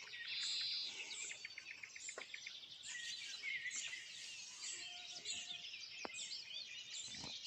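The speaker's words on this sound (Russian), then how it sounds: "И я вышла послушать, как поют у нас птицы." Birds sing in a village in the early morning, a dense outdoor chorus of overlapping chirps, tweets and trills, steady and moderately distant, with no voices.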